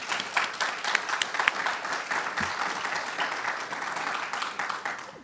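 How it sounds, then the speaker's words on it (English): An audience applauds sponsors at a botanic garden conservation symposium: a broad, even round of clapping from many people, held steady across several seconds, mid-distance and fairly loud. "Let's give them a round of applause"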